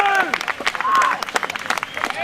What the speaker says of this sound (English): give Jonathan Berger and Tony Hightower a round of applause for putting this program